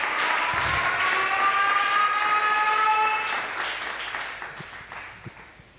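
A church congregation at a wedding blessing applauds and acclaims the Lord with sustained clapping and raised voices, loud at first and then gradually fading away.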